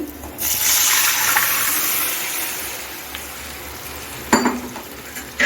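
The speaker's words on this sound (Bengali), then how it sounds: "এখন আমি ডালটা দিয়ে দিচ্ছি" Lentils tipped into a cooking pot for a chili-free dal with bitter gourd, giving a sustained watery rushing hiss that holds steady throughout, followed by a few sharp knocks near the end.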